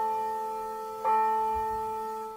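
A large bell at Longwood Gardens rings with a long sustained hum, struck again about a second in and once more near the end, each strike swelling the ringing tone.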